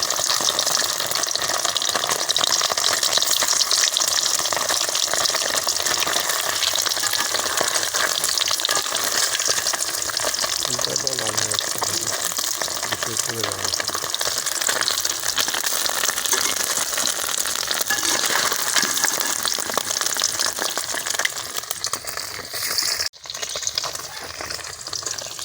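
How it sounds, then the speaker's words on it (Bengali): Egg chhana pieces frying in hot oil until browned, giving a loud, constant sizzle with occasional stirring that runs unbroken and close up, with no voices. "লাল করে ভেজে নেব।"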